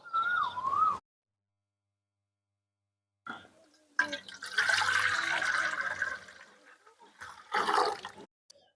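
Running water from a tap as grapes are washed for a homemade grape chutney, heard in short bursts with gaps of silence between, fairly close.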